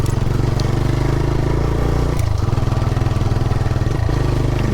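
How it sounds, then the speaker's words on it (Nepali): A motorcycle engine labours loudly and continuously as the bike climbs an off-road uphill track, its steady mid-pitched thrum shifting load briefly midway, close and alone without talk; the bike is due for servicing and pulling weakly. "बाइक पनि अब सर्भिसिङ गर्ने बेला भएको के हो है कस्तो तान्नै छोडे जस्तो गरिदिरहेको"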